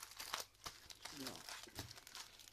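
A plastic Action shopping bag crinkles and rustles in bursts as a craft-supply haul is packed into it, with a voice talking over the handling.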